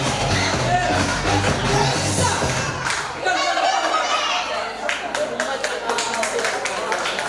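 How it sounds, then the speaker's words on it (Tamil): A crowd at a school annual day musical chairs game in Madurai claps and cheers. Scattered claps and children's shouts rise and fall under a voice talking over a loudspeaker. "நல்ல ஒரு கைத்தட்டல் கொடுக்கலாமே."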